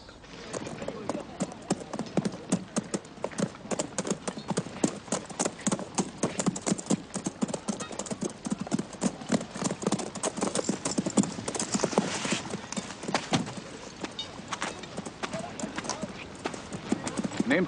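Horses' hooves clip-clop in a fast, steady rhythm on hard ground throughout, close and continuous, with no speech over them.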